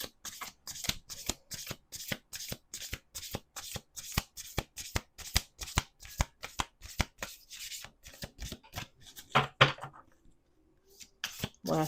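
Oracle cards are riffled and shuffled by hand over and over, giving dense bursts of rapid crisp flutters and taps close by, with a brief pause near the end before the shuffling starts again.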